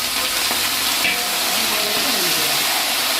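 Tempering spices with curry leaves and asafoetida sizzling in hot oil for a snack to go with tea, a loud, close, continuous hiss that holds steady throughout.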